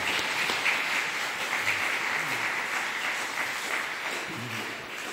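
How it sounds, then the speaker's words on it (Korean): A church congregation at a Korean church in Rome claps in encouragement during Sunday worship, a dense, steady round of applause filling the room from start to finish. "회원들에게 격려 박수 한 번 해드리도록 하겠습니다"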